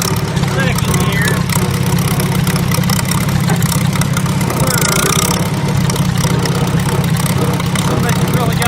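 Farmall Super A tractor engine chugging steadily in second gear, a loud, constant low rumble that fills the whole clip.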